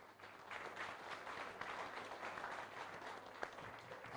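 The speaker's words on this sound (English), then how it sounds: "A big applause for our panel." A university live-event audience applauds a communication and media panel, a faint, distant round of steady clapping that holds for several seconds.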